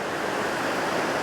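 A waterfall on the Lurg Burn in Scotland roars as a dense, even rush of falling water, steady and close, with no voices.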